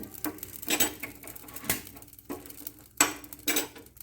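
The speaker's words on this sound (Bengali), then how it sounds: "এখন আমি শুকনা আমগুলো আপনার বয়মের ভিতরে তুলে নিচ্ছি" Dried raw mango pieces for a shredded mango pickle drop into a jar. Soft clatters and taps come in uneven bursts, close and fairly quiet, with no voices.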